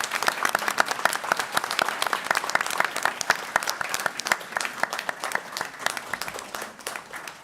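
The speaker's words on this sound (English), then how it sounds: "Please give a big round of applause to Austin Heath" Audience applause for a Spelling Bee of Canada junior category third-place winner at the national championships, dense sustained clapping from a crowd filling the room, steady and loud throughout.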